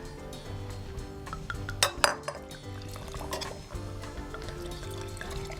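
Red wine being poured into glasses beside a plated grilled striploin, a soft liquid trickle under faint kitchen background, with a couple of bright glass clinks partway through.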